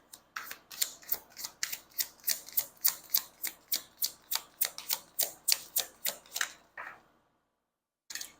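Tarot cards are riffled in quick crisp bursts, a steady run of about twenty snapping flutters, close and fairly quiet, ending with a soft final riffle.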